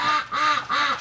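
Ducks quack three times in a steady rhythm, loud and close, on a cold winter day near a gate where some of them have gathered.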